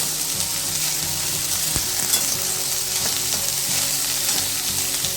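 Okra sizzling steadily as it is sautéed in a pan for a spicy Maharashtrian bhaji, a dense continuous fry with occasional stirring scrapes and clinks, close and fairly loud with no voices.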